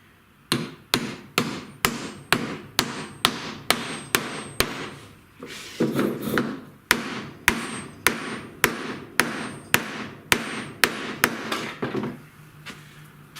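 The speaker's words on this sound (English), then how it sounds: "use a leather or rubber hammer or a block of wood on here" Sharp, evenly spaced hammer taps strike a hard part, fitting a motor mounting onto a Grizzly 7x14 mini lathe, one after another, with a brief pause midway before the steady knocking resumes.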